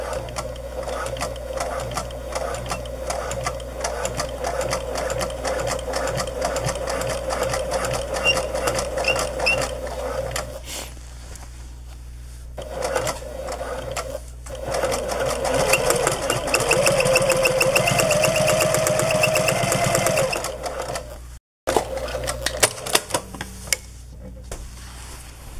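A sewing machine stitching a hoodie, running in close, fast rhythmic bursts with short pauses between seams, mechanical clatter up front and a faint voice briefly under it.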